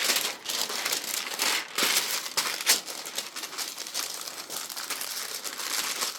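Paper pages of a vineyard-themed junk journal built from old stained documents crinkle and rustle steadily as fold-outs are lifted and handled up close, with sharper crackles scattered throughout and no talking.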